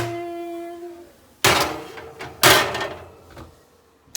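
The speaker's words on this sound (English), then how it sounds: "we're gonna put them in the oven" Kitchen oven door swung open with a loud clunk and shut again a second later with another thud, after a fading electronic beep tone.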